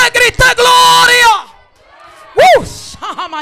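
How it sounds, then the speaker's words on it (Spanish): A church congregation shouts glory in loud, overlapping bursts of voices, a sustained crowd roar that fades into a quieter lull before a few more sharp shouts rise near the end. "Alguien que grite gloria."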